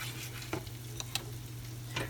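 Cornstarch slurry sauce boiling and sizzling in a pot for egg foo young, a steady bubbling hiss with a few soft clinks and stirring taps, close and alone without talk.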